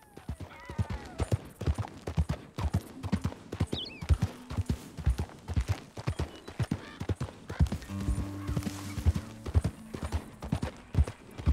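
Horse hooves clip-clop steadily in Red Dead Redemption 2, a continuous rhythmic trot of sharp close knocks, with a few brief harness or tack noises near the end.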